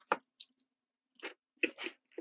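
A crunchy chocolate chip cookie being chewed up close, softer and crisper than a long choco-chip biscuit, with a few separate crunching bursts and quiet pauses between them.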